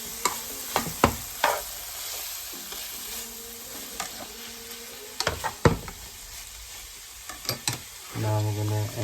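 Vegetables including beans and deep-fried paneer are stirred together in a pan for vegetable jalfrezi: repeated scraping strokes over a soft sizzle, with a brief louder burst near the end and no talk.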